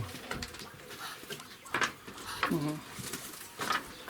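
A pigeon gives a soft, low coo partway through, close by, amid scattered rustling and a voice speaking.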